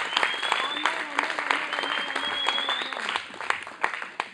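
A church congregation at a women's convention applauds, and dense clapping fills the space continuously while a voice rises and falls over the applause.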